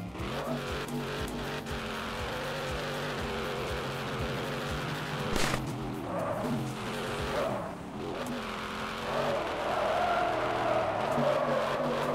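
A car in the video game Denizen losing control at 105 km/h after a handbrake turn: a continuous engine drone with rough tire noise and scrubbing, steady and loud throughout, no voice.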